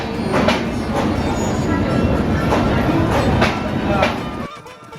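An evening train from Jhansi to Agra, India rolls along nearby, its wheels clattering in a steady rhythm over a heavy rumble that cuts off abruptly at the end.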